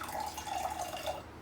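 Cold water trickling from a spoon into a jar of instant coffee, a soft steady splashing pour heard close and quiet, alone without any talking.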